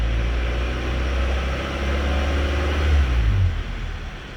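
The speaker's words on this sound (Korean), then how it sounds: "2000rpm 가는 그 구간에서만 디젤차 소음 같은 딱딱딱딱딱딱 하는 소음이 많이 크게 나요" A Hyundai Grandeur engine accelerating toward 2000 rpm with a fault that brings on a loud diesel-like ticking, heard as a steady low engine drone that swells briefly near the end.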